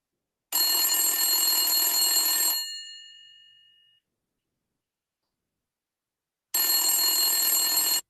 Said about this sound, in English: You receive a phone call.